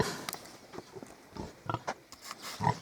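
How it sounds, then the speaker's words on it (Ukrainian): Week-old piglets on a small mini pig farm, giving soft, close grunts, snuffles and sniffing noises in scattered short bursts. "Поросятка ростуть, бігають."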